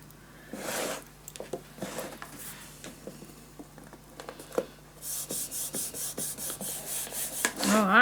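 Paper is burnished down onto a scrapbook album with a tool, producing scattered rubbing and scraping strokes, then a rapid run of rhythmic rasping rubs, close and fairly quiet.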